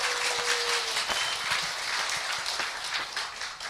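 Audience applause at a lecture, a broad, steady wash of clapping from many hands that fills the whole clip at moderate loudness, with no talk over it.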